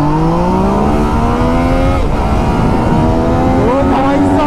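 Sport motorcycles in a drag race, a Kawasaki Z900, Honda CBR 650R, Yamaha MT-09 and Honda CBR 650F, their engines screaming with rising pitch through the gears, loud and continuous, with someone talking over the roar.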